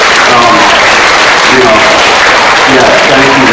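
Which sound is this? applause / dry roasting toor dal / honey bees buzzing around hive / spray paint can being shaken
applause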